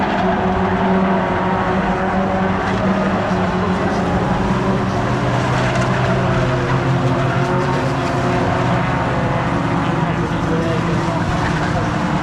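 Race car number 36 passing on a circuit: a loud, sustained engine roar that fills the whole stretch, dense and continuous, with a commentator talking over it.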